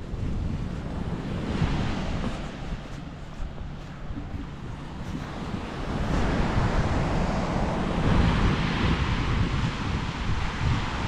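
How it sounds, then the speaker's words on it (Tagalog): Strong wind buffets a seashore, roaring steadily over crashing surf with gusts that swell louder toward the end; no voices. "Ang lakas ng hangin."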